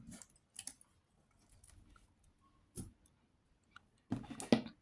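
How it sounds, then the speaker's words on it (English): Wire cutters snipping a short length of jewellery wire, heard as a few sharp, quiet clicks spaced apart with near silence between, ending in a brief cluster of louder snaps. "We're going to cut it with our cutters."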